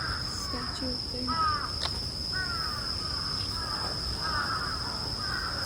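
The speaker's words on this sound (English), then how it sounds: "There's a bunch of crows." A bunch of crows cawing around an empty temple near Tokyo, several harsh calls in quick bursts at moderate distance over a steady high insect whine and soft outdoor hiss.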